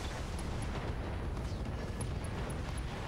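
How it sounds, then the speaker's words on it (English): Heavy mech weapons fire in the Battletech game, a dense continuous roar of blasts and rumble with sharp high pings over it, loud throughout. "Firing all weapons."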